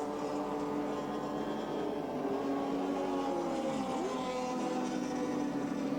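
A touring car engine drones and revs continuously at close range on a wet Lakeside circuit during a 1983 Australian Touring Car Championship round, its pitch rising and falling steadily as the throttle is fed in gently.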